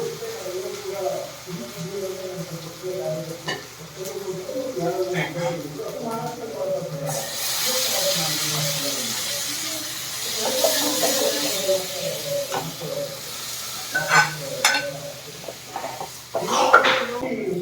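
Dal is poured into very hot ghee in a pot for a home-cooked dinner. A hissing sizzle swells, with metallic pot and spoon clatter, all under steady talk.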